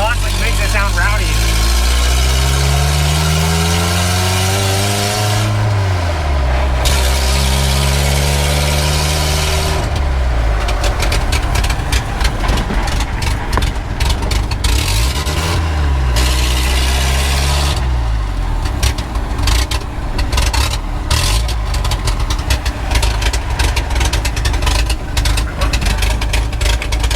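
A vehicle engine idles loudly and roughly with a rowdy, popping exhaust leak, heard up close and steady throughout, with occasional revving swells.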